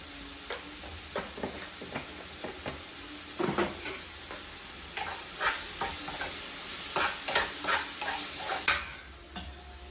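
Onion and tomato cooking in a pan while being stirred, a string of distinct scraping knocks from the spoon, growing more frequent toward the end, over a low steady sizzle, no speech.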